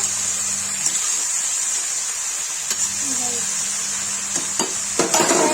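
Ridge gourd (nenua) curry with salt cooks in a pan: a soft, steady sizzle under a faint voice, broken by a few brief scraping clicks of a spoon stirring toward the end.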